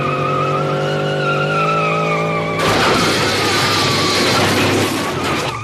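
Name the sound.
cartoon car flooring the gas, wheels lifting and skidding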